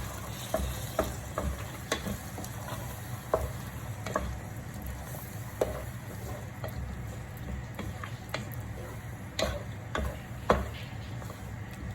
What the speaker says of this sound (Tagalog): Haluin ulit natin.